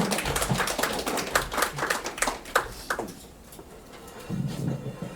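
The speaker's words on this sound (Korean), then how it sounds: "박수로 환영해 주세요." Church gathering audience claps to welcome a Korean traditional-music gospel singer, a brief burst of clustered hand claps that fades after about three seconds into quiet room tone and a low rumble.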